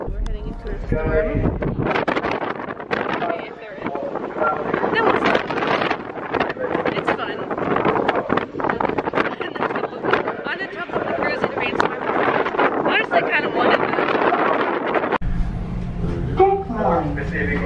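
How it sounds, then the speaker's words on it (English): Strong wind blasts across the open deck of a Carnival cruise ship at sea ahead of a storm, loud, continuous gusting and microphone buffeting throughout, with people talking underneath. "It's freaking windy today though."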